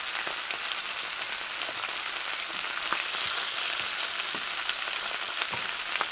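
Beef intestine dry-fries with onion in an oiled flat pan, giving a steady, close sizzle with dense crackling spits. It runs evenly from start to finish with no talking.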